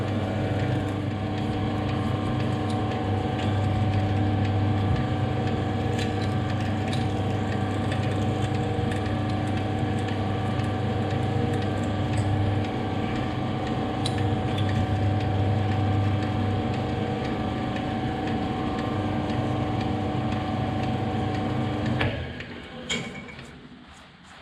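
A tapping jig running at its lowest speed of 100 RPM, giving a steady mechanical hum with faint ticking and ratcheting, constant for most of the stretch before cutting off near the end.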